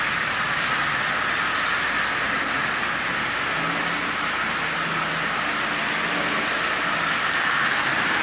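A Marx 898 toy train engine hauls 22 tin litho cars, giving a continuous dense whirring rumble that stays loud and even throughout with no voices.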